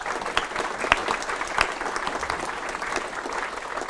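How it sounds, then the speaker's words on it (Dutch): An audience applauds a group of women at a housing cooperative event, with moderately loud, continuous clapping and a few sharper individual claps standing out. "Wat heb je even een applaus voor deze dames."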